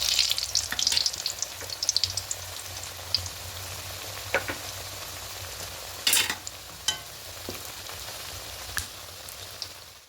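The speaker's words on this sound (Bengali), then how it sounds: "এবারে তেলের মধ্যে একে একে ছেড়ে দেব" Potato-stuffed Maggi noodle snacks hiss and crackle as they drop into hot oil, a busy deep-frying sizzle with occasional louder bursts and pops.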